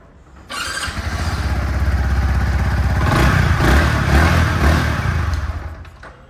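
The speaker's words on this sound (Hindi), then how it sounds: "इसका एग्जॉस्ट साउंड उतना अच्छा नहीं है, नॉर्मल बाइक जैसा ही जो है साउंड करती है।" A Yamaha XSR 155 motorcycle exhaust, loud and close, starts up and holds a steady engine drone, rising into a few revs in the middle before settling back, with no talking over it.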